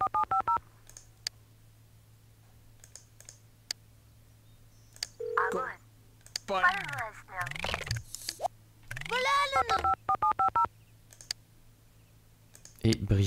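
In The Sims video game, a phone is dialed with rapid bursts of tonal beeps and clicks, mixed with Sims' gibberish chatter in the middle.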